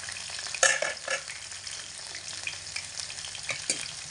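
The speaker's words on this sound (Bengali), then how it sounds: "ডাটাগুলোকেও একই রকম ভাবেই ভেজে নেব" Drumstick stalks fry in oil over medium heat, giving a steady close sizzle with occasional louder spits and stirring scrapes.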